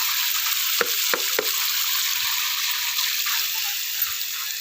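Tap water pours steadily into a tub of clothes soaking in washing powder during village hand-washing, a continuous bright hiss with a few sharp splashy knocks near the start.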